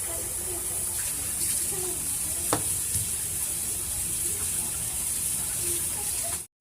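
Rice being rubbed and washed by hand in water for biryani, a continuous close swishing and watery hiss that holds steady throughout with a brief knock partway through, then cuts off.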